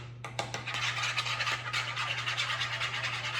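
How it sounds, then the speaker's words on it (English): Eggs are whisked in a bowl with quick, rhythmic scratchy strokes, fairly close and soft, over a constant low electrical hum. "I'm just gonna whisk them up a little bit"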